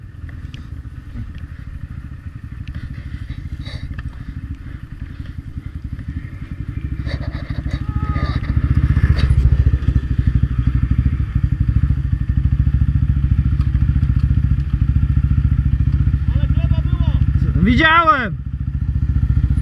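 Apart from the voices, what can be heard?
ATV quad engine running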